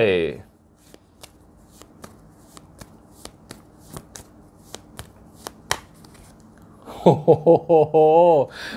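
Tarot cards shuffled and dealt by hand, a run of sharp, crisp card snaps and flicks spaced through a quiet room, followed by someone speaking.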